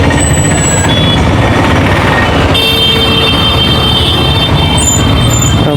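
Busy city street traffic in Madurai, a steady dense roar of trucks and buses with air-brake hisses, horn toots and reversing beeps, loud and continuous.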